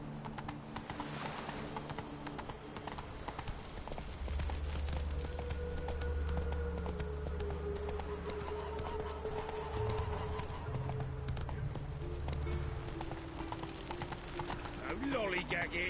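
Roach the horse gallops in The Witcher 3, steady rapid hoofbeats clip-clopping up close under game music and occasional voices.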